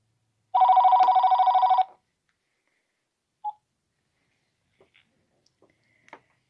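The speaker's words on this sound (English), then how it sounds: "Okay, the phone is about to ring." A Pinephone running Mobian Linux plays a steady, loud dial tone for over a second, followed by a single short beep and a few faint ticks and clicks.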